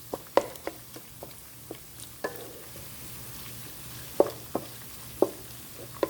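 Ground beef browning in a pan for spaghetti bolognese, a low steady sizzle broken by scattered sharp stirring and scraping clicks from a spatula turning the meat.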